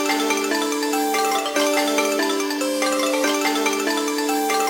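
Bright synth stabs in an FL Studio beat repeat in short tonal bursts over a sustained, ringing melodic layer, steady and moderately loud, with no voices.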